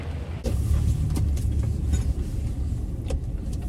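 A car drives along a winter road in Canada, heard from inside as a steady low rumble with a few faint clicks and rattles.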